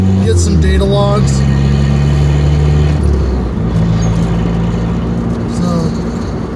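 A Ford Probe GT fitted with an HX35 turbo accelerates hard through the gears, its engine note rising in pitch, dropping at a shift around three seconds, then climbing again, loud and close throughout.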